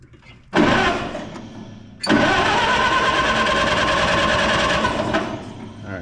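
A Minneapolis-Moline ZTU tractor with choke set cranks briefly, catches, then bursts into a loud, steady running engine that holds close and strong before easing slightly near the end.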